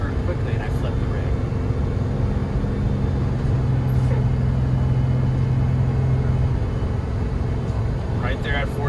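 A Jayco Seneca Super C motorhome climbing Monarch Pass in Colorado at about 40 mph and 2,500 RPM, with a steady, loud engine drone and road rumble throughout, a low tone holding through most of the drive.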